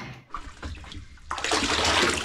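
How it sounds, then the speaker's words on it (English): Water poured onto the ground outdoors, a brief quiet stretch with faint knocks, then a sudden strong rushing splash that continues loudly to the end. "Yeah, you see how good the water is flowing."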